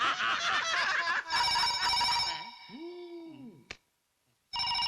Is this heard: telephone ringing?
yes